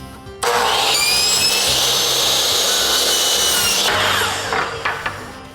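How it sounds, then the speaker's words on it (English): A power saw cuts angled ends on wood trim during a basement renovation, starting abruptly with a steady loud whine and rasp for about three and a half seconds, then spinning down with a few light knocks afterward. "we'll go to the saw, cut both angles in advance"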